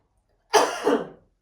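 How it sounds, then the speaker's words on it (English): A single human cough, close and fairly loud, with two quick bursts rolling into each other over about half a second before trailing off, heard alone in an otherwise quiet room. "cough."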